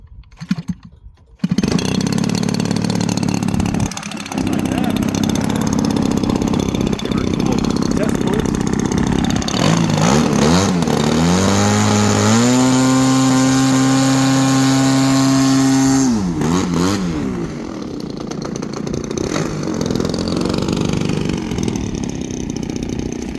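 Small gas engine on a Hangar 9 20cc P-51 Mustang RC plane starts after a few flips and runs steadily, loud and close, with a rising rev and a high buzzing whine partway through while someone talks.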